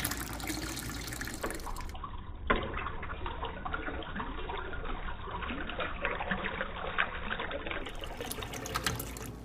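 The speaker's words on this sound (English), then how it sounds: "Now add 5 gallons of the artesian spring well water" Artesian spring well water pours into a brewing pot for boiling, a continuous splashing trickle and gurgle close by, steady for several seconds.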